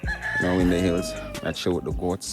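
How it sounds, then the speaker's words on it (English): Roosters crow in the Jamaican countryside, a clear rising-and-falling call followed by shorter repeated crows, close and loud, with someone talking alongside. "You can hear the roosters in the background."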